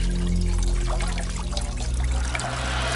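Wine pours and trickles out of a cooking pot in a steady close stream for a few seconds, over a low hum.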